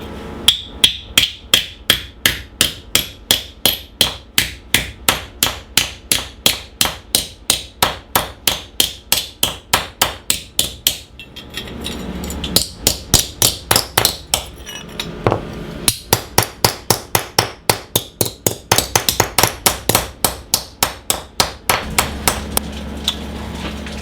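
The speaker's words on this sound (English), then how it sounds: "just take your hammer, and then we're just going to hit the sides here and flatten that out." Rapid, steady hammer blows ring out on metal spoons being flattened on concrete, dozens of sharp clanking strikes in quick rhythm with a brief pause midway, close and loud.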